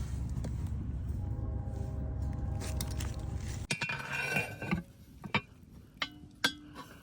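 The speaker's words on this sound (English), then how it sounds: "Put the lid on." A heavy lid set onto a cast iron stew pot over a campfire, one metallic clank followed by a few lighter rattling clinks, close by, after a steady low rumble of the fire.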